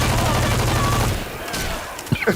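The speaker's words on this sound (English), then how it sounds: "I just unloaded an entire drum mag into the area" A rapid burst of gunfire with incendiary rounds from a drum magazine in Left 4 Dead 2, sustained and loud before cutting off, followed by a few scattered shots and brief talk.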